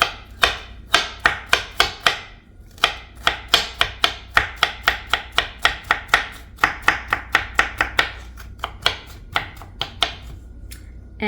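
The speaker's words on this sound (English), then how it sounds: "another ingredient is fresh cucumber. I'm gonna do the same thing and cut it up into small pieces" A knife chops fresh cucumber into small pieces on a board, a brisk run of sharp, close, evenly spaced cuts that pause briefly partway through and then carry on, with no talking.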